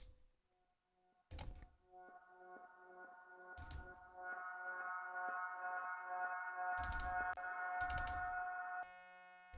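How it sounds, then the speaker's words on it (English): A sustained synth pad swells in and holds a warm chord, punctuated by a few sharp percussive hits and a low thud, in a minimal techno track. "And there's a nice pad."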